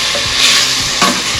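Two cloves of garlic with onions frying in a pan over moderate heat, giving a steady, close sizzle broken by a few soft scraping stirs.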